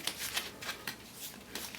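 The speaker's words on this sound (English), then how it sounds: "These are crystal and gem cards, and I will just give them a shuffle" A deck of crystal and gem tarot cards being shuffled, a few quick riffling bursts, soft and close.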